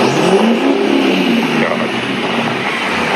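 Modified Duramax diesel pickup truck rolling coal, its engine revving loud and close in a sustained, roaring pull that holds steady throughout.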